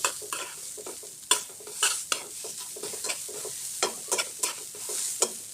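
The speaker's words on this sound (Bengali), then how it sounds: "আমি সামান্য একটু তেল দিয়ে ভালো করে কিন্তু কালো জিরার সঙ্গে সবকিছু মিক্স করে নিচ্ছি।" Khanman leaves tossed with a little oil and black cumin in a hot pan, stirred with quick repeated scrapes and rustles over a soft sizzle, close up with no talking.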